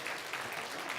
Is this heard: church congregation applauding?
yes